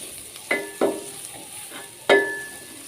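Vegetables for fried rice are stirred in a hot pan, with three or four distinct spatula scrapes and clanks over a soft, steady sizzle, up close and without speech.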